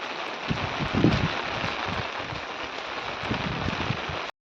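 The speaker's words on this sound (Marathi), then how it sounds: "आता पाऊस आला" Rain falls steadily, pattering on a surface with a soft continuous hiss and scattered heavier drops, no voices present.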